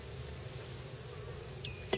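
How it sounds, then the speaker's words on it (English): Honey bees buzz around an opened hive during an inspection, a steady dense drone close by with one bee zipping past near the end. "It's interesting kind of watching the bees after you put the burr comb in the bowl here."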